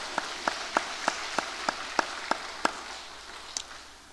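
A church congregation clapping together in steady rhythm, about nine crisp, evenly spaced claps at moderate volume, then a final faint clap after a short pause, with no talking.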